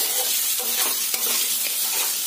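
Fried potatoes stir-fried together with egg in a pan, a loud, continuous close sizzle with rhythmic stirring scrapes and no voices.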